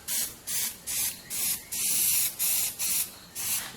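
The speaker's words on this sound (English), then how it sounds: "I'm just very lightly trying to give it a bit of an overcoat, that's the right word, with some blue" A spray can lays a light blue overcoat over primer in a series of short, even hissing bursts, roughly two per second, with one longer sustained spray in the middle, close and alone.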